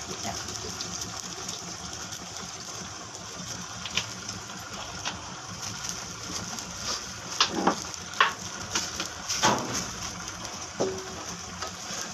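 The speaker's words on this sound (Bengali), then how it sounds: "মাংসটা এবার কষা হচ্ছে।" Meat frying and braising in a pan, a continuous close sizzle with scattered stirring scrapes and louder spattering bursts toward the end.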